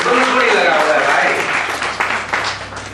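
Audience applause at a poetry recital in Raipur, a dense wash of clapping that fills the moment and gradually thins, with a few louder claps standing out near the end.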